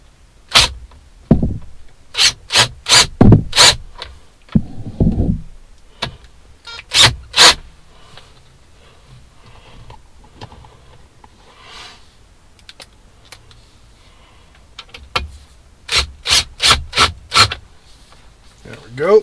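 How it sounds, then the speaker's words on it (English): A small screwdriver drives tiny sub-millimetre screws into a radio bezel in a Jeep dashboard, making clusters of sharp, rapid clicks and ticks. The sounds come close and in bursts with quiet gaps, and a brief murmur of speech is heard between them. "We're gonna put in the 2 bottom sub-millimeter screws here."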